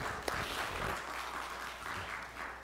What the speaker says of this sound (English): You can clap again for her.